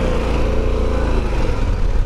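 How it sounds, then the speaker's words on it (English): Harley-Davidson Pan America motorcycle engine running while riding, a steady low rumble with dense mechanical throb, close and loud throughout without letup. "So this is the Harley Davidson."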